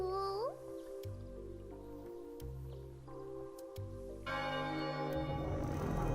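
In the video game Chocobo's Mystery Dungeon Every Buddy, a church bell rings with clear, repeated strikes over sustained musical tones. The chimes grow brighter and denser toward the end.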